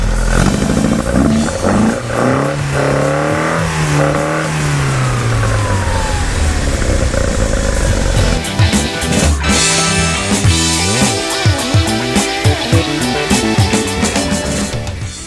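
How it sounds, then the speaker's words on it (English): A 1978 Lotus Sprint Eclat engine is revved hard while cold, rising and falling in loud, close bursts, then settling into an uneven, rumbling idle. "So I'll go ahead and I'll rev it up here again too."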